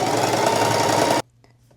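Sewing machine stitching fabric pieces for a patchwork hoodie with a straight stitch, a loud steady close-up motor whir and needle buzz that stops abruptly, leaving near silence.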